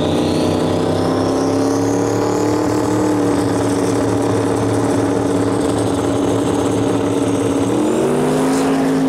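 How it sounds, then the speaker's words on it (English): A Fairmont station wagon with a shootout back drag racing at high speed, its engine roaring loud and steady throughout, with the pitch climbing sharply near the end as it pulls away. "It's like a Fairmont station wagon, it looks like, with a shootout back and running crazy fast."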